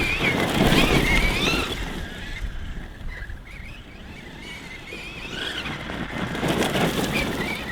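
A Kyosho Mad Wagon VE RC car running on a 3S battery, its high-pitched electric whine surging loud and close, fading as it drives off, then rising again as it returns.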